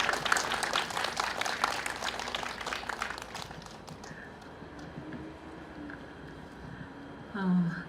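A crowd at a candlelight vigil for the Itaewon disaster victims outside Seoul City Hall claps loudly for a few seconds, then the applause fades into quieter outdoor ambience with a voice speaking near the end.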